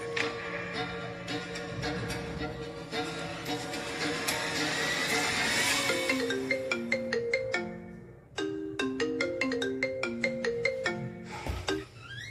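A phone ringtone rings for an incoming call, a loud, steady electronic melody of repeated bright notes lasting about twelve seconds with a brief break near the middle, with no talk over it.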